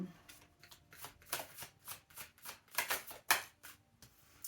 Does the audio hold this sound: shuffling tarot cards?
yes